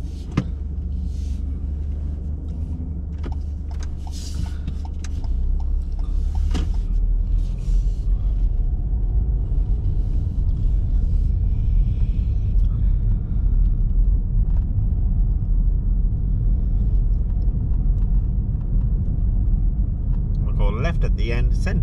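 A car on a driving test route near the Wednesbury test centre idles, then pulls away with a steady low engine rumble that builds and holds, with faint clicks early on and a brief brighter noise at the end.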